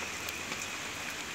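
Heavy monsoon rain pouring outdoors near a construction site, a dense steady hiss of drops on surfaces, loud and continuous with no voices.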